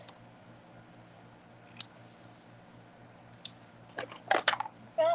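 Scissors cutting paper for a handmade card, a few brief crisp snips in a quiet room, clustered near the end, close and moderately loud.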